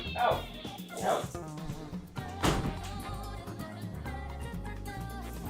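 A small dog yips and barks in a room, sharp close bursts early on over background music, with someone talking to and scolding it.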